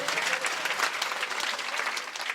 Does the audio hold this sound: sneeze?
no